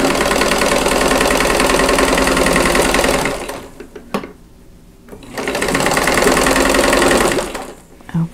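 A sewing machine stitches pieces of a quilt block in two long, steady runs of loud, close, mechanical whirring, split by a short pause with a few clicks near the middle.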